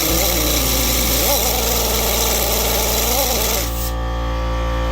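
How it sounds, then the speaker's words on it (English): An angle grinder with a cutting wheel slicing off the blank threaded sections of Jaguar F-Type R wheel adapters, a loud continuous whine that wavers in pitch and then cuts off abruptly near the end, leaving a steadier lower drone. "we're going to end up cutting all this dead space off right here with just the wheel grinder"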